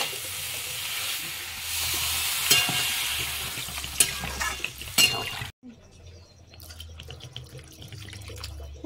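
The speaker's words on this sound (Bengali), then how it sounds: "আর এই যে ধনে পাতা আছে, এগুলো দিয়ে একটু নাড়িয়ে দেবো সুন্দর করে।" A spoon stirs and scrapes through sizzling fried pumpkin, fish heads and coriander in spices in a pan, with a steady frying hiss and clinks. It drops to quieter kitchen sounds after about five and a half seconds.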